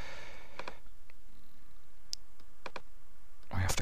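A computer mouse clicking in 3D animation software (Cinema 4D) makes several sharp, close clicks spaced irregularly, some in quick pairs, over a quiet room; a burst of voice cuts in at the end.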